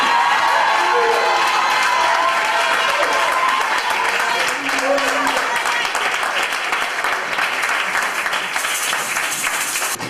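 A youth congregation at a Foursquare church youth day event applauds and cheers loudly and continuously, with dense clapping, shouts and whoops filling the whole stretch.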